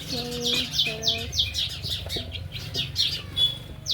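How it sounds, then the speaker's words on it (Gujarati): Sparrows chirping in a jamun tree, a close, lively series of quick, sharp repeated chirps with short gaps, plus a few lower calls early on. "સરસ મસ્ત મજાના જાંબુના ચકલા બોલી"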